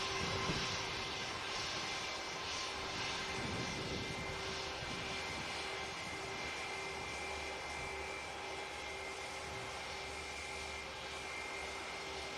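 A British Airways jet on the shuttle to London Heathrow rumbles at Manchester Airport, a steady, moderately distant engine drone holding evenly throughout without talk.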